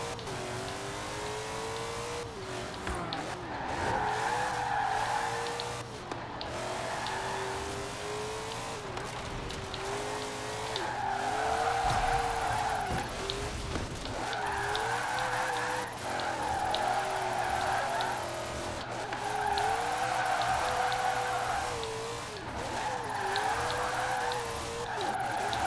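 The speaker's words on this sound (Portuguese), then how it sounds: "Eu vou fazer uns driftzão aqui, velho." In Forza Horizon 4, a Ford GT40 drifts on Fortune Island, its engine revving and its tires giving repeated squealing bursts at fairly even intervals over a steady low hum.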